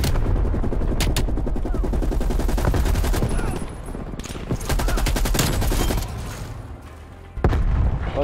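Rapid machine gun bursts ring out in a multiplayer shooter match, dense rhythmic firing mixed with distant booms and grenade blasts, loud and continuous with brief lulls, while a player talks over the action.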